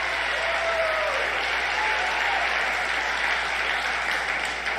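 A crowd at a political rally breaks into loud, sustained applause, a dense wash of clapping that holds steady for a few seconds before starting to ease.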